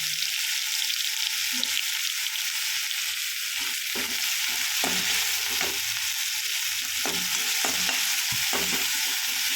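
Ginger, garlic and onion fry in oil for vegetable fried rice, a constant close sizzle punctuated by repeated scraping and stirring knocks of a spatula against the pan, with no one speaking.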